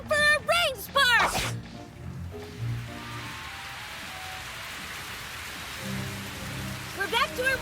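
Cartoon rain spark attack with rain falling: a steady hiss of rainfall fills the middle of the scene, bracketed by animated voices speaking before and after.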